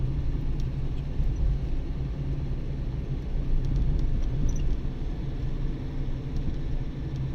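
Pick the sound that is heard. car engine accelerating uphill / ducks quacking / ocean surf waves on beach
car engine accelerating uphill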